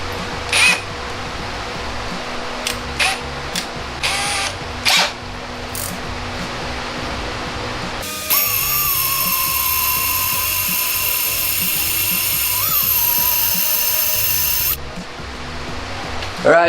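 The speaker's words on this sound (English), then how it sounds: "get your favorite drill and start drilling away" Brief zipping drill bursts lead into a long, steady high-pitched whine of an electric drill biting into metal, making a 700R4/4L60E input housing set tool, loud and close, then stopping.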